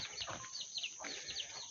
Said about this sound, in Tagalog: Ito, ang mga manok.